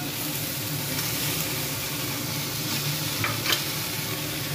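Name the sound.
fried vegetables added and stirred in a sizzling pan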